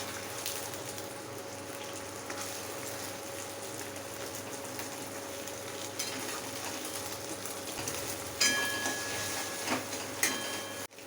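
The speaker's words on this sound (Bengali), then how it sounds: "এরপর আমি ডিমটা ভেজে নিচ্ছি।" An egg fries in hot oil in a wok for an Indian egg and potato-poppy-seed dish, giving a steady, close sizzle throughout, with a few brief clinks and bumps near the end.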